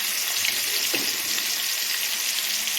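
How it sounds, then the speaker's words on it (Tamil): Chicken pieces sizzling in the same oil used to fry onions, Andhra-style chatpata chicken in a home kitchen; a steady, close hiss of frying runs throughout. "இப்போ வந்து நம்ம வெங்காயம் பொரிச்ச அதே எண்ணெயிலேயே நம்ம வந்து இந்த சிக்கனையும் நம்ம போட்டு எடுத்துக்கலாம்"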